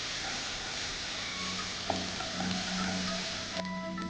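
Onions and slit green chillies sauté in a pan for mutton bhuna gosht, a steady soft sizzle with occasional utensil scrapes and clinks, no talking.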